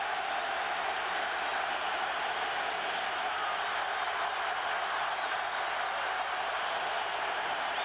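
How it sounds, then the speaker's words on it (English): A large home stadium crowd at a Buffalo Bills NFL game gives off a steady, broad roar that holds at an even level the whole time, with no individual voices standing out. "Here comes the Buffalo crowd."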